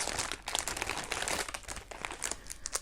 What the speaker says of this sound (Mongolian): ийм жижиг ууттай задлах юм бол